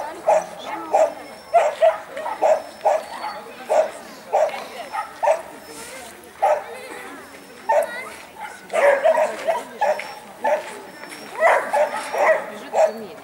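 A spitz dog barks and yips repeatedly at an agility competition, sharp bursts recurring in an uneven rhythm throughout, close and fairly loud, with people talking and calling out around it.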